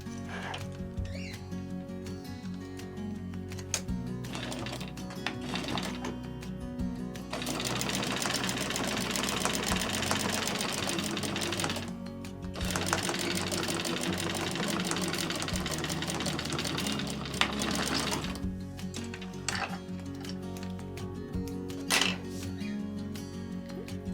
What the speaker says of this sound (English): we're going to sew a 1/4 inch seam allowance just across the bottom edge here